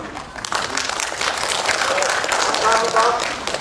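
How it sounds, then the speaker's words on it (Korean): An audience at an outdoor alumni association gathering applauds to welcome the association president, steady broadband clapping throughout with crowd noise and a voice over it. "박수로 환영해 주시기"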